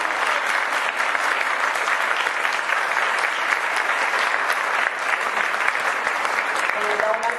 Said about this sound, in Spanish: yo creo que el aplauso tiene que ser más fuerte para esos.